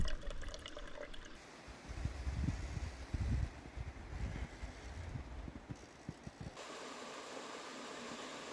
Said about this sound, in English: You just scoop it up and squeeze it into your bottle.